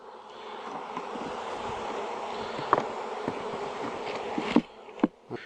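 A dense, steady buzz of many honeybees from a package being installed into a hive fills the air close by, with occasional light knocks and thumps near the end.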